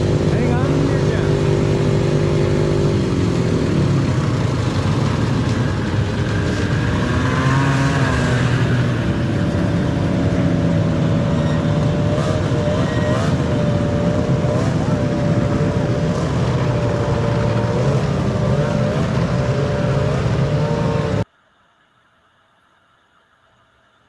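Vintage snowmobiles pass by in a group, a steady loud drone of two-stroke engines with rising and falling pitch as each sled goes by, sustained for about twenty seconds before cutting off.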